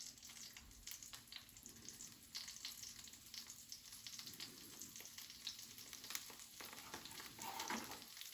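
Rosemary dropped into a hot pan of salted potatoes for Tuscan rosemary potatoes, a soft continuous sizzle and crackle with scattered pops and faint stirring scrapes, fairly quiet and close, no talking.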